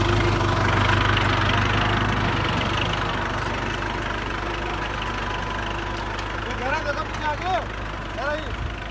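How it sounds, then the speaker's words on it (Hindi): A Kubota 4501 tractor engine pulling an MP plough runs steadily at low revs with a deep, constant rumble; a voice talks over it and some birds chirp near the end. "एक कुबोटा 4501 कंपनी के आरपीएम पे चलता हुआ ट्रैक्टर"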